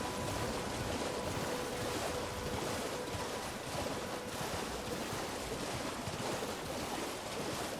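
In Elden Ring, a character runs through water, giving a steady loud wash of splashing and sloshing that holds for several seconds, alone and with no talk.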